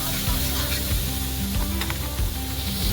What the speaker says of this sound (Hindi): इसको और खुले में हम 2-3 मिनट तक अच्छे से इसको भुनेंगे